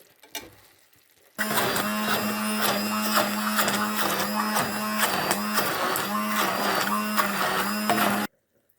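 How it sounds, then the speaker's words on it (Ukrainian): A kitchen blender runs steadily and loudly for about seven seconds, whirring as it purees chicken liver pâté with coriander, allspice and ground pepper, then cuts off abruptly. "І ще пару минут і буду блендерити."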